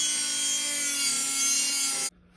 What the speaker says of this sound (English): I'm gonna cut off these brackets and sand them down